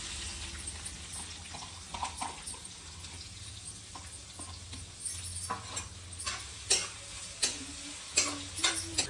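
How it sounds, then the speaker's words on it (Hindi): Sliced onions fry in ghee until golden brown, a continuous close sizzle with louder bursts and scraping stirs coming more often toward the end. "प्याज का गजब भुन चुकी है, बिल्कुल एकदम गोल्डन ब्राउन"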